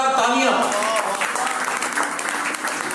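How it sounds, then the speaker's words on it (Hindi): Audience applause fills a farewell celebration hall, steady and fairly loud, with a voice speaking over the first half second before the clapping carries on alone. "जोरदार तालियां"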